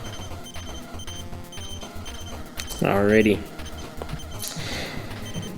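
Repeated electronic beeps pulse in a steady rhythm from the NES racing game Al Unser Turbo Racing, running under chiptune music while someone speaks briefly over them.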